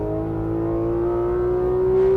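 A Porsche 991.2 GT3 RS engine drones steadily on the Nürburgring, a loud close tone rising slowly in pitch as the car accelerates, with no voices.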